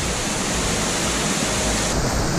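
Torc Waterfall pours with a loud, dense, continuous roar of rushing water that fills the whole clip, close by and steady, with no voices.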